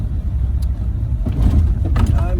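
Steady low engine rumble of a 1928 Hupmobile Victoria Opera Coupe rolling along in third gear, with a slight rise in engine noise midway and faint voices in the background.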